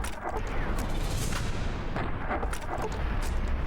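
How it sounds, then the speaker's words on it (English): Plasma grenades burst in Fallout: New Vegas against giant green geckos, a run of heavy booms and crackling blasts rolling together loudly and densely. "Let's see how the plasma grenades hold up."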